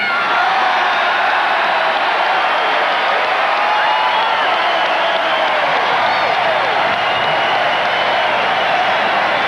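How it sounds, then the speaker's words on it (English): A large convention crowd at the 1988 Republican Convention roars, cheering, whooping and clapping in a loud, dense, continuous wall of noise that never lets up. "Almost any mention of Ted Kennedy will bring a roar in this crowd."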